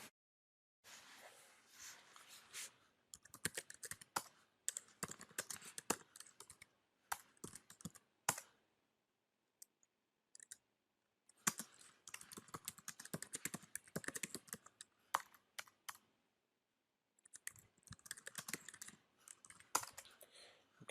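Bursts of rapid key clicks on a computer keyboard as C code is typed, coming in quick runs separated by short pauses, close and fairly quiet with no talking.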